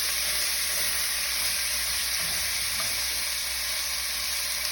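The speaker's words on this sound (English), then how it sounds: "we'll get that stirred all in there. Keep that bacon from burning to the bottom and sticking" Bacon frying in a pan for pilau, a constant bright sizzle while being stirred, close and steady with no talk.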